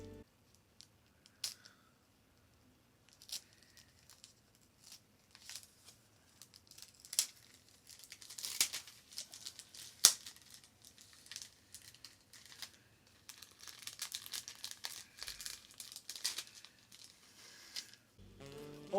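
Quiet, close crinkling and tearing as plastic shrink wrap and tape are pulled off a hardcover art book, in scattered bursts with some handling noise.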